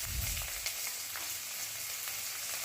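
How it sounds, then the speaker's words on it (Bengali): Halved cashews and chopped onion fry steadily in hot oil, a dense continuous sizzle with a few soft stirring scrapes near the start. "এবার 4 থেকে 5টা কাজু এভাবে হাফ হাফ করে ভেঙে তেলের মধ্যে দিয়ে হালকা নাড়াচাড়া করে নিচ্ছি"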